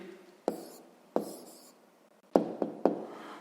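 Pen on paper jotting down a math answer: a handful of soft, close taps and short scratchy strokes in a quiet room, spaced irregularly, with no voices.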